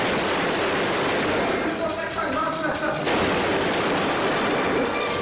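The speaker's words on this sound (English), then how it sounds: "the madman fires his automatic weapon inches from his face" An automatic weapon fired indoors just inches from a man's face, giving a dense, loud, continuous burst of blasts with voices mixed in.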